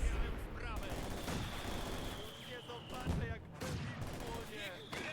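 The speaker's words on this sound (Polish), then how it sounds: "kolejny strzał z moździerzy zapalających" Incendiary mortar and gunfire in a video game battle: repeated booms and crackling shots overlap continuously, while a voice talks over the fighting.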